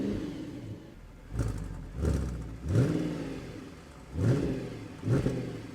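A rare Mercedes-AMG car's engine is blipped in a series of about five deep, close revs, each rising and falling, with a low idle rumble between them.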